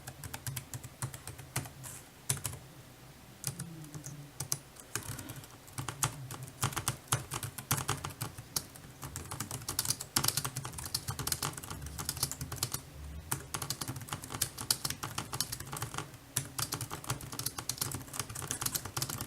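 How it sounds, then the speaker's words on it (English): Continuous typing on a JETech 2.4G wireless computer keyboard, close up, with rapid irregular key clicks and occasional heavier strokes, no voices. "this definitely isn't the best typing experience I've ever had"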